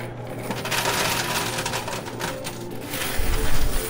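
Quarters clattering and dropping inside a coin pusher machine, a dense, continuous metallic jingle with busy arcade hum beneath and a louder burst of falling coins near the end.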